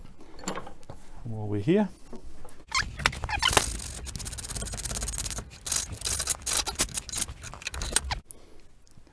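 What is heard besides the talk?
filing a copper pipe lug terminal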